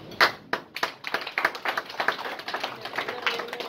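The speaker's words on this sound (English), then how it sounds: "Can we also give him another round of applause" Scattered clapping from a small audience at an African achievers awards event in the London parliament, a few loud, close claps at first, then lighter, uneven hand claps continuing.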